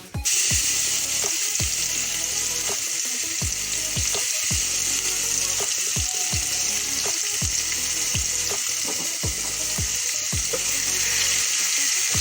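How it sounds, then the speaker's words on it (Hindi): Crushed garlic sizzling and crackling loudly in hot mustard oil for tempering dal, a continuous fry with periodic scraping stirs throughout. "इसमें मैंने सरसों का तेल को गर्म कर लिया है। अब हम इसमें बघार लगाएंगे।"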